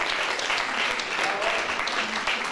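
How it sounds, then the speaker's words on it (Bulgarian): Audience applause at a Bulgarian sports awards ceremony honoring an award recipient, steady dense clapping from a large hall crowd, loud and continuous throughout with no voices over it. "Аплодисменти за Величко Милчев."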